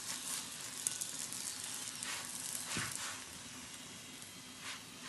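Chapati frying in a pan after a spoonful of oil is added, giving a steady, moderately quiet sizzle that runs the whole time with a brief louder crackle midway.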